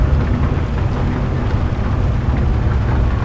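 Steady heavy rain drumming on a truck while driving in Euro Truck Simulator 2, a loud continuous wash of rain over low engine and road rumble, constant throughout with no talk.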